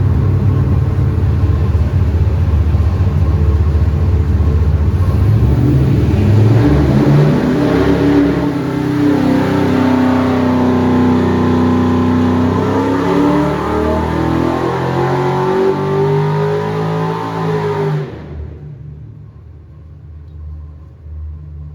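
A 406 engine runs on a dyno, roaring hard as it revs up in one long climbing pull, then cuts off abruptly, leaving a low fading rumble.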